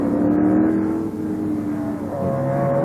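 Racing cars from the 1973 Tasman Series at Warwick Farm roar along the pit straight, one overtaking another under brakes, engines loud and close with steady droning tones shifting pitch as revs change.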